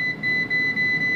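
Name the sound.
air fryer beeps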